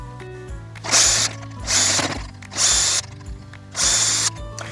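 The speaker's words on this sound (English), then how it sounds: "so with our pilot holes drilled, we're ready to screw the hasp onto the post" Power drill boring pilot holes into a wooden post for a hasp, four distinct bursts of whirring with short pauses between, each rising and falling, close and loud over a faint background hum.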